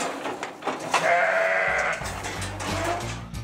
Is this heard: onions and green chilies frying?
no